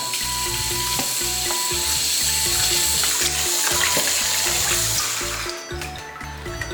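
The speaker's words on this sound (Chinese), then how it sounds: "切好的羊排来洗一下。" Cut lamb ribs washed by hand under a running tap in a sink: steady rushing water with clattering, knocking bits of meat against the basin, loud and continuous, easing off near the end.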